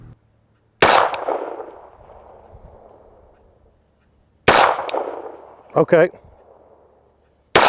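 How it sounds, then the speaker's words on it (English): Pistol fitted with a red dot sight fired at a target: two loud, sharp, close shots several seconds apart, each ringing out briefly, with a short spoken word between them and another shot starting at the very end. "I'm shooting directly at the headshot."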